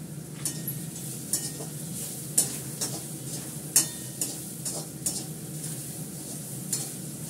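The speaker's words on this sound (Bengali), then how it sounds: "আমি এটা অল্প একটু তেলের মধ্যে আলুটাকে, পেঁয়াজটাকে ভালো করে আমি ফ্রাই করে নিচ্ছি" Steady sizzling of potato and onion frying in a little oil, with sharp intermittent clinks and scrapes of a utensil stirring the pan, close by and without talk.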